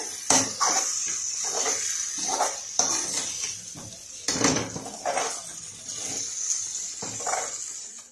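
Poha upma ingredients being stirred in a pan, with repeated scraping and clinking strokes of a spoon against the metal in an irregular rhythm, close and fairly loud.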